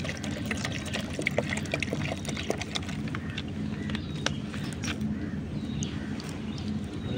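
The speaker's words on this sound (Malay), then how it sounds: "Bubuh air dalam ni." Water poured into a plastic mineral water bottle for cooking rice, a steady continuous trickling and splashing that holds evenly throughout, close and moderately loud.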